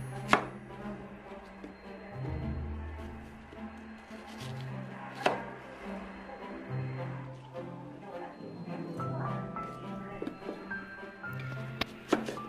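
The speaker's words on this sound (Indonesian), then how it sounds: "langsung saja kita ambil apel dan dipotong-potong" A knife chops an apple into pieces on a board, giving a series of soft, irregular chopping taps with occasional sharper knocks, heard close and at moderate volume with no speech.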